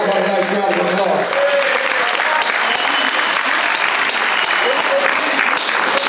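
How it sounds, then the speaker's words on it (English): A club audience at a jazz venue breaks into steady, dense applause for the drummer, loud and close, with some voices mixed in. "How about a nice round of applause?"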